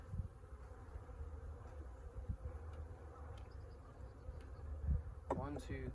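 A steady low buzz of honeybees being shaken onto a hive top hums throughout, with faint movement and brief higher squeaks near the end.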